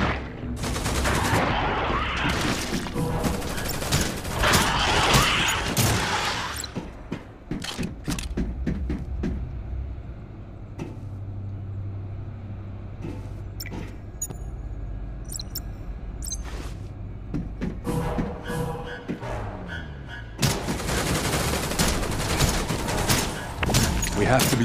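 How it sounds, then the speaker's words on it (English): Gunfire in the mobile action game Project: Arrival: bursts of rapid loud shots and fusillades, with a quieter stretch of rumble and creaks before the shooting resumes near the end. "The monsters in the woods will have heard the gunshots"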